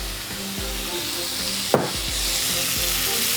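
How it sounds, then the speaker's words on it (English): Wine hits a hot pan of marinated meat cooked with sage, garlic and onion, setting off a loud, steady sizzle that flares in a brief burst midway and keeps hissing close up. "I'm gonna hit it with some wine again"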